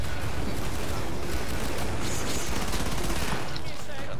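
Dense, loud and continuous gunfire fills the video game Killing Floor, a constant barrage of rapid shots and explosions with no pauses.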